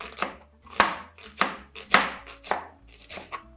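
A medium-sized onion is chopped into tiny pieces with about seven distinct knife strikes on a board, close and evenly paced, separated by short quiet gaps.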